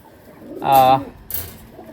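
Pakistani pigeons make a brief, close coo, one rounded call followed by a shorter second burst within about two seconds.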